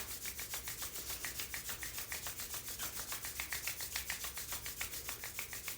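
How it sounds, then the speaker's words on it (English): Palms rubbed together fast, a steady rapid swishing friction with regular strokes, close and fairly loud, continuous with no voices. "Let's rub our hands together really fast"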